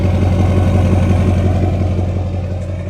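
A car engine rumbles through a bigger exhaust tip with a deep, throaty, steady idle pulse up close. It stays loud and even for the whole stretch and no one speaks over it.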